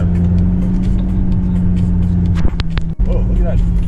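A car driving along a road, a loud steady low engine drone and road rumble from inside the cabin, with a few thumps near the end and people talking over it.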